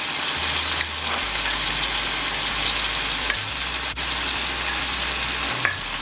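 Wiri pepper, garlic and white onion sizzle and fry in a pan while being stirred, a steady close crackle with a low hum underneath and a few faint scraping clicks, no talking.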